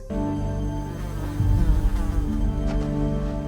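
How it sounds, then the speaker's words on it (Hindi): A fly buzzes in a scene from the film Harry Potter and the Deathly Hallows Part 1, a steady droning hum that swells louder partway through and carries on to the end with no voices. "उसके पास मक्खी गूंजने की आवाज आती है"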